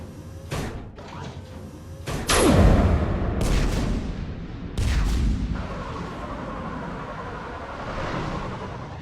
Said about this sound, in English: Have the guns punch a hole in the perimeter, then launch Shuttle 1.